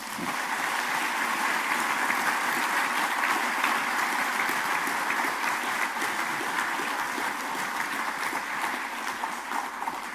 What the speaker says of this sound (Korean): 축하와 격려의 뜨거운 박수를 한번 쳐주셔야겠어요